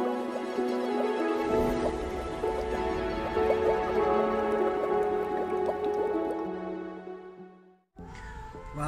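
A koi pond waterfall is switched on, and water gurgles and trickles steadily at close range with a constant tonal hum beneath it, then briefly drops away near the end before the flow resumes.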